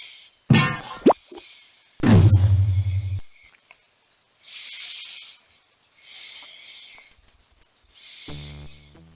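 Sci-fi transporter energizing effect from the Space Quest 6 adventure game, a series of hissing, shimmering bursts separated by short silences, with a low humming chime near the start and a brief tonal sting at the end.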